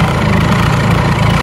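A 30-year-old Bajaj Chetak scooter idles steadily just after a first kick start following two months unused, a loud, close, continuous low engine chug with no speech over it.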